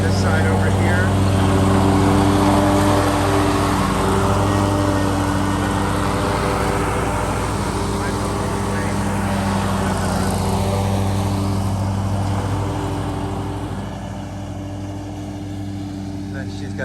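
A lawn mower runs continuously while cutting a yard on a hot day, a steady droning engine hum holding close and loud throughout with no breaks, easing slightly toward the end.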